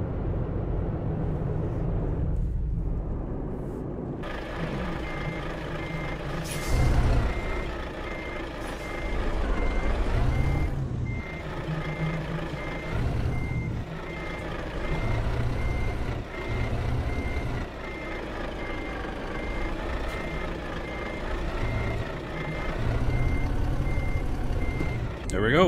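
A Volvo VNL 670 truck in American Truck Simulator backs a container trailer, its reversing alarm beeping steadily under a low diesel rumble, with someone talking over it throughout.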